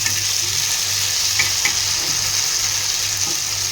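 Sankara fish frying in a pan, a steady close sizzle of hot oil with faint crackles and a few soft stirring clicks, continuous and even throughout without any voices.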